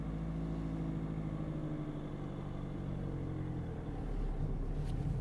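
A manual-gearbox car pulls away in first gear, its engine a steady low rumble that swells slightly as it accelerates, heard close from inside the cabin with no talking.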